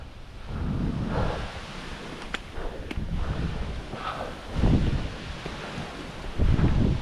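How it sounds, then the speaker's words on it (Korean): Gusty wind buffets the microphone on a mountain hike up Hwangmaesan, rumbling low and swelling in surges, with faint rustling beneath. "아, 아 바람 시원해"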